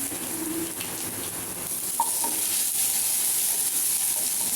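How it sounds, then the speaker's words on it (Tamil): Ginger fries in a pan with cumin and garlic for a mixed vegetable sabji, giving a steady, moderately loud sizzle throughout, with a faint bird-like coo early on. "நல்லா ஃப்ரை பண்ணிக்கணும்."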